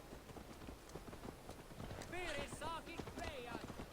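Horse hooves clip-clop in Assassin's Creed Valhalla, a fast rhythmic run of hoofbeats under game sounds, with a couple of whinny-like calls partway through.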